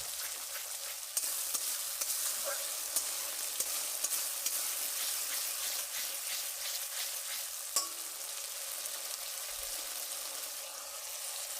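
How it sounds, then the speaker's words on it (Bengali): Masala sautéed in a pan with 50 grams of whisked sour hung curd gives a steady, close sizzle throughout, with a few light clinks of stirring and no talking. "50 গ্রাম ফেটে রাখা টক দই দিয়ে দিলাম। দিয়ে হাফ মিনিট ভালো করে কষে নিতে হবে।"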